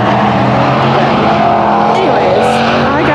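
Race cars on a small track roar past with a continuous engine drone, brief tire squeals and passing sweeps, loud and close.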